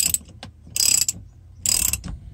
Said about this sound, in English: He's screwing the last fitting in.